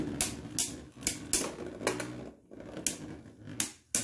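Beyblade Burst tops, including a Cho-Z Crash Ragnaruk and a Pegasus, clash in a Dash Stadium, giving repeated sharp clacking hits about every half second over a steady whirring rattle, close and fairly loud, with no talk.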